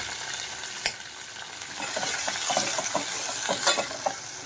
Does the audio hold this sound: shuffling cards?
no